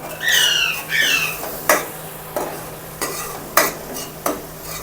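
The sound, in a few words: tempering spices sizzling in pan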